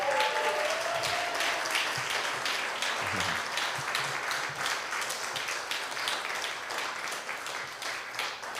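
A concert audience applauds, a dense, sustained wash of clapping from a large crowd in a hall that holds steady and then slowly thins out.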